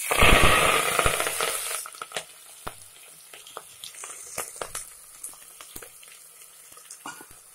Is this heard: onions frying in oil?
yes